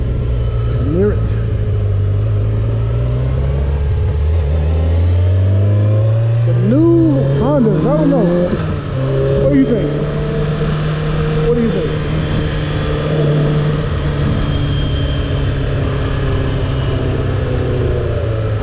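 Honda CBR600F4 motorcycle engine revving hard while riding, loud and close, the revs climbing and dropping through gear changes before settling into a steady drone.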